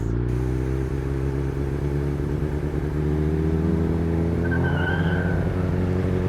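A Volkswagen GTI accelerating on the road, its engine droning steadily and rising slightly in pitch under constant loud road and wind noise from inside the car.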